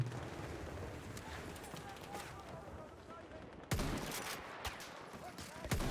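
Gunfire in Battlefield 1: a steady din of rifle and machine gun fire with a few sharp, close shots near the end, under a voice talking.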